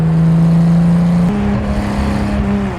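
A Gunther Werks Speedster, a Porsche-based sports car, hums a loud steady engine note while cruising, then the pitch drops and climbs again after a gearshift, close and continuous.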